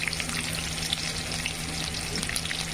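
Curry leaves frying in hot oil with fennel, green chili and garlic: a dense, steady crackling sizzle close by, holding evenly throughout with no talk.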